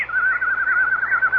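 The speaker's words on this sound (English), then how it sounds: "That's a very rare nightingale." A nightingale's song used as a radio drama sound effect: a sustained, wavering high whistle with a regular warbling pulse, loud and close, playing alone without voices.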